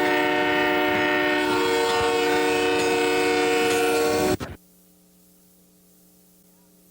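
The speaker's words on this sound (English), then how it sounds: "That train you're seeing now has 3 large engines on it" A CN Rail freight train with three large engines rumbles past with a loud, sustained horn blaring for about four seconds, then the sound cuts off abruptly to near silence.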